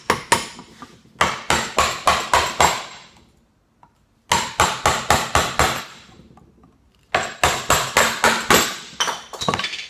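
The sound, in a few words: splitting pine timber along the grain with hammer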